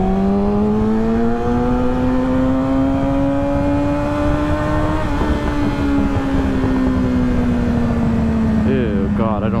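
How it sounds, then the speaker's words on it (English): A bike ridden outdoors in strong, gusty wind, with a steady whining tone that drifts slowly up and down in pitch over a constant rushing wind rumble. "That's why my bike sounds so loud sometimes and then so quiet other times. Cause it's windy."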